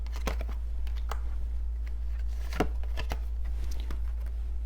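Tarot cards are shuffled and drawn close to the microphone, producing quick riffling flutters and crisp slaps and clicks in irregular bursts over a constant low electrical hum. No one talks.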